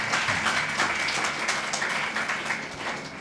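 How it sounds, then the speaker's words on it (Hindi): An audience at a SPIC MACAY sitar recital in the CIMAGE hall applauds with steady, moderately loud clapping from many hands, which holds evenly throughout and fades slightly at the end. "अच्छा, हाथ ताली तो बहुत अच्छा लगता है।"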